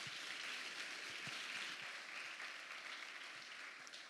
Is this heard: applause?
yes